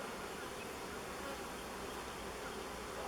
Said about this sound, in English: it's the middle frame of the 5, so it has a lot of bees on it